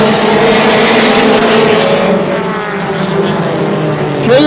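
Mini stock race cars roar loudly around Flamboro Speedway at the start of a race, a dense close engine drone with cars passing and pitch shifting, dipping slightly mid-way before surging again.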